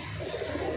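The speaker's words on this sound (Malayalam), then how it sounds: "നാടൻ പ്രാവുകളാണ്" Native pigeons give a short, low, throaty coo, close by and moderately loud, heard over a faint steady background hum.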